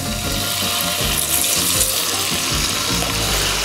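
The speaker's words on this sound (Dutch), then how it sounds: "De kabeljauw gaat in de pan," A cod fillet laid into a hot pan of oil, sizzling and crackling loudly and steadily throughout with a dense, hissing spatter close by.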